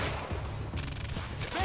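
Gunfire in the video game Quantum Break, a rapid burst of booming shots with heavy low-end thumps packed closely together over less than two seconds, loud and close.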